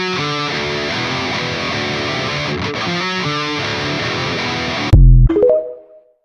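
A heavily distorted electric guitar riff from a song in Fortnite Festival, dense sustained chords chugging steadily for about five seconds before a final loud struck chord rings out and fades.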